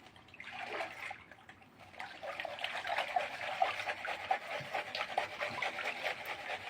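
Water washes light material off a gold pan in a steady, close rushing trickle with soft sloshing, continuous throughout and no talk.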